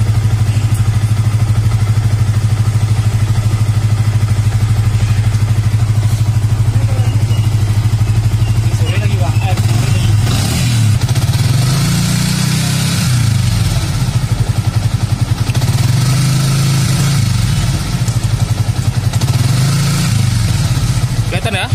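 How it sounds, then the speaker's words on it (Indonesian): A motor engine keeps running at a steady, loud idle, then the throttle is blipped slightly a few times so the pitch rises and dips; a voice talks over it throughout. "Ini kondisi mesinnya masih nyala."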